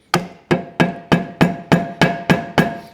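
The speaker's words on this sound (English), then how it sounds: "I might have to just have a quick look round for a piece of wood or use the bottom of the hammer." Hammer tapping bolts on a Ransomes Parkway 3 Magna 250 cylinder cutting head unit, eight sharp metallic knocks at an even, steady rhythm, loud and close with short ringing decays.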